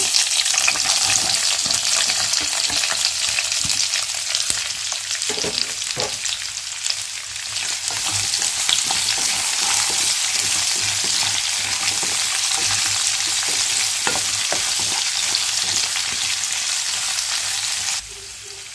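Sliced onions sizzling in hot oil in a pan for puri curry, a loud dense continuous frying hiss with occasional stirring clicks, no speech, fading slightly at the very end.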